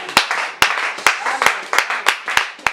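A church congregation claps in acclamation, a series of about eight sharp, evenly spaced claps over a reverberant room murmur, fairly loud and close, with no one speaking over them.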